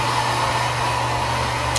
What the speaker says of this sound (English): Kahit naka-on yung hair dryer.